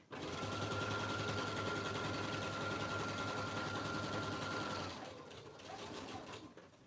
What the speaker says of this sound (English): I'm gonna go ahead and sew all this all the way around now.